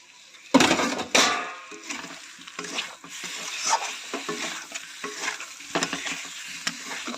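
Potatoes for Bengali aloo dum fried and stirred in a pan, a steady sizzle broken by loud scraping strokes of a spatula against the metal, close and busy throughout.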